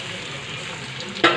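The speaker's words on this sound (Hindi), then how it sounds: "ऐसे ही इसको अदरक लहसुन डाले बाद थोड़ी देर भून लेना।" Chicken frying with ginger and garlic in a pan gives a steady soft sizzle, with a brief louder stir or scrape near the end.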